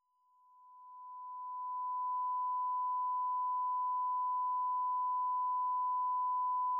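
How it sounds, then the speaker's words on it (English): A steady sine wave test tone, sent through an audio compressor for a hard knee versus soft knee comparison, holds one pitch for about seven seconds, swelling up over the first two seconds and then staying level before cutting off abruptly. "So we can hear it right now and take a look at this display as I play the sine wave through."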